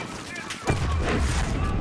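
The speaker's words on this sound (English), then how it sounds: "He's just shooting this guy." Gunfire in the 2019 Call of Duty Modern Warfare campaign: a sharp boom at about two-thirds of a second followed by dense rumbling shots and blasts, with game voices speaking underneath.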